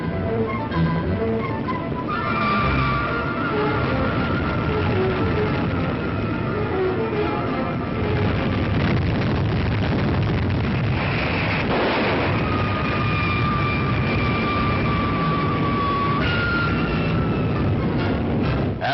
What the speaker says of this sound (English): the Titan thunders downrange.